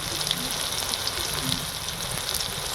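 Ginger garlic paste, chili paste and turmeric powder sizzling in a pan of hot oil during a Bengali prawn curry, a steady close crackling hiss with no talk.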